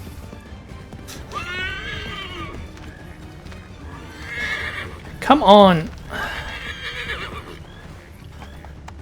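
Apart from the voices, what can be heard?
horse neighing and hooves, video game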